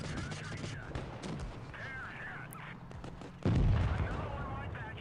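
Tank cannon fire in World of Tanks Blitz, from the VK16.02 Leopard tier 5 German light tank and a T-28 in battle: scattered game shots and impacts, then one loud, close, booming blast about two-thirds through.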